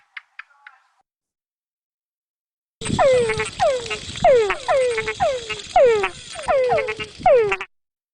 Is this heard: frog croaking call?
yes